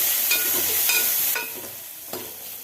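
Crushed ginger, garlic and shallots with curry leaves sauté for a raw mango rasam, a soft close sizzle broken by a few quick stirring scrapes and taps, fading slightly over a couple of seconds without talk.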